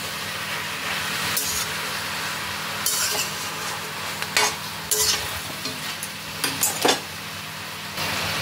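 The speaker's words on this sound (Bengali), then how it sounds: "আবারও এগুলোকে আমি একবার নাড়িয়ে চাড়িয়ে দিচ্ছি" Spinach greens frying in a pan are stirred, giving a loud, steady sizzle broken by scraping and knocks of a spatula against the pan, close up.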